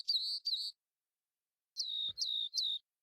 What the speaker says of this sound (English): And so now we have an array of our bird sounds.